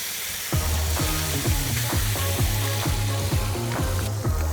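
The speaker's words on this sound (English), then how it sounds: "Now we're gonna throw the chicken on the grill. Wonder if we can get a good sizzle." Chicken sizzles on a hot Blackstone griddle, a steady loud frying hiss with a regular crackling pulse running through it, close up and without talk.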